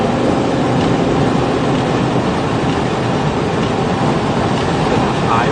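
A train rumbles loud and continuous near a rail yard during a stormy outing in New York, a steady dense roar filling the whole stretch with no breaks.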